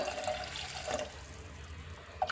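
Water is poured into a pressure cooker holding washed beans on a stove, a soft, steady splashing stream in a quiet kitchen, fairly faint and continuous.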